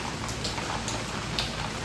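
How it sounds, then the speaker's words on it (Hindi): Heavy rain falls steadily at home during a downpour, a dense, even hiss with scattered drop impacts, fairly faint and continuous with no voices. "तेज़ बारिश हो रही है अभी।"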